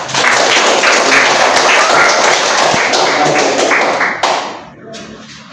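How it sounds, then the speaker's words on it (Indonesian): A fifth-grade Islamic school class applauds a presenting group in a loud, close burst of many hands clapping at once, which fades quickly into quieter room sound near the end. "Berikan tepuk tangan."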